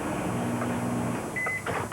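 A microwave oven heating a McCain microwave pizza, a steady close hum with a faint tonal whine, running alone without voices.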